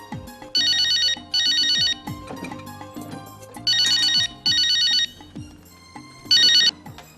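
An electronic telephone rings in paired trilling bursts, two rings, a pause, two more, then one, loud and close in an otherwise quiet room.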